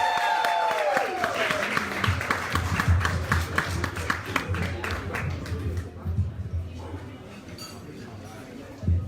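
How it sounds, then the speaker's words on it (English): Open mic audience keeps clapping a performer up to the stage, a dense patter of hands with glass clinks and a host talking over it, thinning out toward the end. "Let's clap him all the way up to the stage, y'all. Keep it going."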